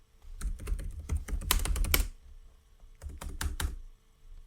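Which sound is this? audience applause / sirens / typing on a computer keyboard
typing on a computer keyboard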